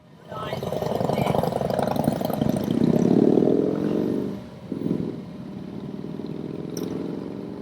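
Yamaha Super Tenere motorcycle engine running close by, a steady low rumble that rises to a louder surge, dips briefly, then settles back to a smooth idle.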